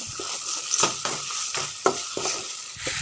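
Pieces of country duck meat frying in a pan while being stirred, a close, steady sizzle broken by rhythmic scraping strokes of a spoon roughly every half second.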